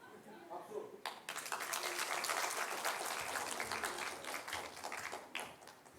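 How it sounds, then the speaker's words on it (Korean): A church congregation claps together during a Sunday afternoon service at a Presbyterian church, a burst of dense, moderately loud applause starting after a brief spoken moment and carrying on steadily before tapering slightly. "박수."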